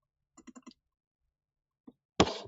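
A computer mouse clicks faintly on a quiet desk: a quick run of four light clicks, then a lone click after a pause, followed by a sudden louder burst of sound.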